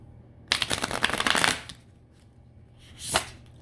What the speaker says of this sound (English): it's different riffle shuffling with these nails